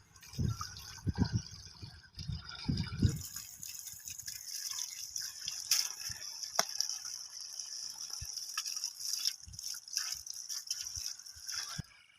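Chicken liver being washed by hand in water, with splashing, dripping and sloshing close by, soft and uneven, with no talk.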